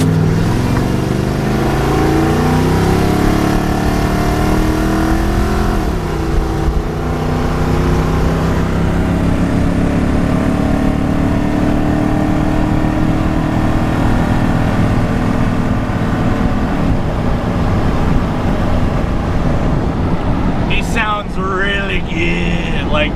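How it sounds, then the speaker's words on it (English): A car engine pulls hard through a highway acceleration, its steady loud drone rising in pitch as it climbs through the gears, with a brief change near the end. "So we're just gonna do a little highway pull."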